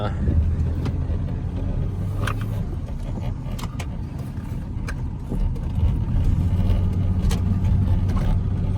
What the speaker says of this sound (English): that dash rattles really bad